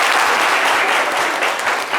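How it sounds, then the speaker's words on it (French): A live show audience applauds a young woman called up on stage, producing a brief burst of loud, dense, even clapping from many people. "On peut l'applaudir très fort."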